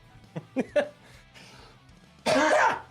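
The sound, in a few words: cough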